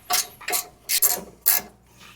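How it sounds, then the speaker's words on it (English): Ratcheting wrench loosening a bolt on the suspension of a 1997 Mustang Cobra, heard as four quick bursts of ratchet clicking with short pauses between, close and fairly loud, with no talking. "I got my ratcheting wrench."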